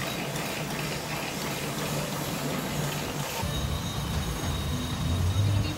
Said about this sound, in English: We got the large train here.